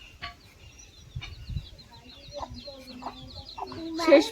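Chicken clucking in scattered short calls, quiet and somewhat distant, building to a louder squawk at the end amid faint background household noise.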